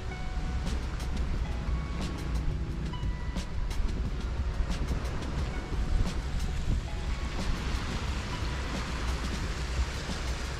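Waves wash continuously onto the shore of Demangharjo beach in Tegal, a steady broad roar of surf with wind buffeting, close and fairly loud, with no speech.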